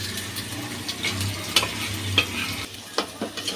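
Chicken and potatoes with spices sizzle steadily in hot oil in a pan, a continuous close frying hiss broken by a few sharp scrapes and clicks of stirring.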